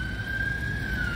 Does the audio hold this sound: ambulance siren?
yes